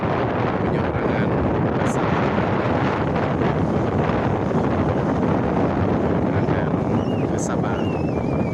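A sea crossing from Ulee Lheue to Sabang near Banda Aceh, with heavy wind buffeting the microphone over a constant roar of boat and water noise and a couple of faint high tones.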